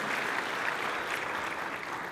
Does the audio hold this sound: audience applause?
yes